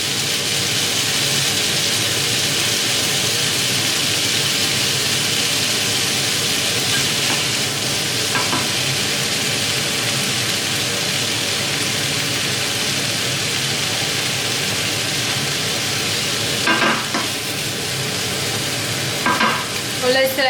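Nigerian fried rice frying in a pan, a loud continuous sizzle with occasional scraping and stirring noises partway through.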